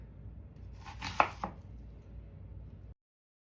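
Knife chopping through ingredients for an African peanut stew on a board, a steady run of close, soft cuts with two sharper knocks near the middle, then sudden silence.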